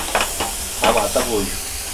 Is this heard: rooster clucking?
no